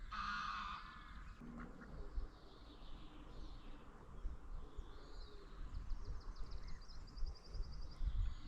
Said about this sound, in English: All you can hear is different animal noises. Birds.